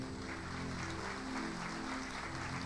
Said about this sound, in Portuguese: Vamos aplaudir ao Senhor Jesus, irmãos.